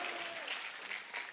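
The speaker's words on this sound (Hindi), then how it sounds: "तालियां अगर आपका मन हो तो बजा लेना" A studio audience at a TV comedy show claps steadily, a dense continuous wash of applause heard faintly and alone.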